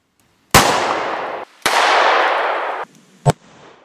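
A .357 Magnum fires into a plastic target, two sharp, loud cracks each trailed by a long rolling echo, then a shorter, fainter bang near the end.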